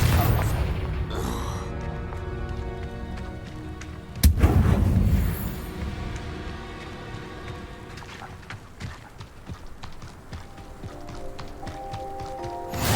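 A loud blasting-spell explosion from the Hogwarts Legacy video game booms suddenly partway through, set against a dense bed of game music and effects that keeps rolling before and after the blast.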